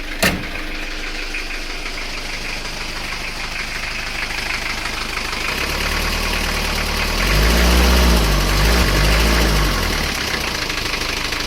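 An Isuzu Panther 2.3 diesel engine, suffering oil loss and weak power, idles just after starting with a steady low knocking rumble that swells louder and rougher partway through, close and alone.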